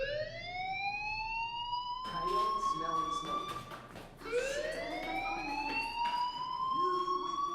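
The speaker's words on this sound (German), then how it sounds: "do you hear that fire alarm?" Fire alarm in a school building in the video game Life is Strange, a loud electronic siren sweeping up and down in long wails, with chattering voices and bustling crowd noise underneath.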